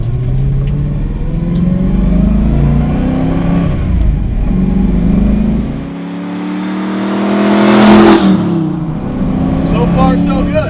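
A modified 1965 Ford Mustang with a Tremec TKO 5-speed accelerates up through the revs, its engine note climbing, dipping briefly and rising again at close range, with people talking over it.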